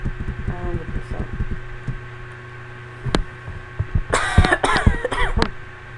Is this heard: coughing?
yes